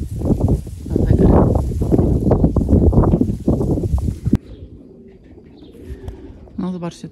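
Racing pigeons coo in a loft during a 350 km race flight, with wind noise and loud handling noise over the first half before the soft cooing continues alone.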